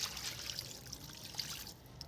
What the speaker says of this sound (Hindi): 1 लीटर पानी हम सभी बेल के अंदर अप्लाई कर देंगे दोस्तों